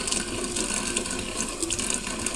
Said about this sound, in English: So, what you do is you turn your water on very hot